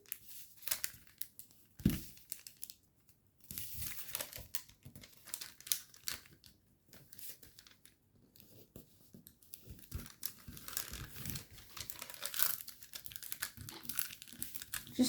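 Paper crinkles and creases in soft, close bursts while being folded into an origami jet, with brief pauses between folds and no talking.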